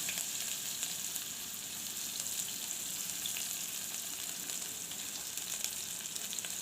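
Onion sizzles in hot oil with mustard seeds in a pan for a bottle gourd and chana dal curry, a steady, even crackling hiss with faint stirring, close and alone.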